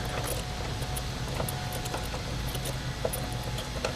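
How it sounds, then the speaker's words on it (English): A hand ratchet tightens sidestep bolts lightly on a Nissan Xterra, giving faint, scattered clicks close by under steady background noise. "with a regular ratchet lightly. Click."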